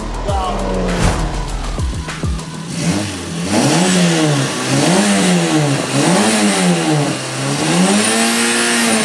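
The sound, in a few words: Peugeot 106 rally car engine revving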